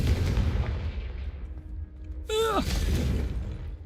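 Confringo fire spells blast in Hogwarts Legacy, a dense rumbling boom that fades, then a sharp whooshing crackle and another heavy burst, with game effects layered loudly and no clear speech.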